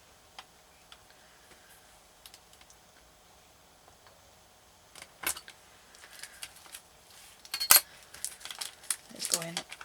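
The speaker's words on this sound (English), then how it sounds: "I'm just going to chop off all this other scrap clay" Blade chopping scrap polymer clay on a table, sparse faint taps at first, then louder clustered clicks and knocks toward the end.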